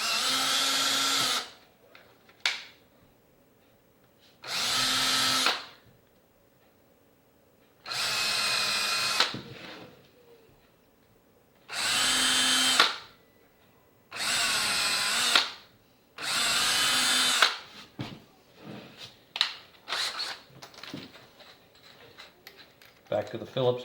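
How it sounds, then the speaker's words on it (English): A power drill whirs in six loud bursts of a few seconds each, drilling pilot holes in wood for a soap mold, separated by pauses, followed by clattering handling noises. "We'll drill our pilot holes"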